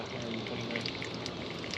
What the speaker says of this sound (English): There's another glug of bubbles.